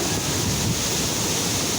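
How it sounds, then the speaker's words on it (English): Strong gusting wind along the Miami Riverwalk in hurricane-like weather, a steady loud roar buffeting the microphone for the whole stretch. "the wind is gusting like 60-70 miles an hour"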